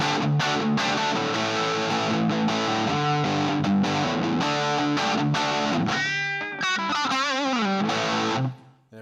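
An electric guitar plays crunchy, distorted riffs through a NUX Core pedal with a Greenback 4x12 cabinet impulse response, with choppy chords followed by sustained bending notes that ring out and then cut off.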